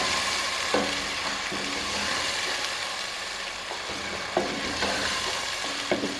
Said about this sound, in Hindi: कीमे को थोड़ा सा हम फ्राई कर लेंगे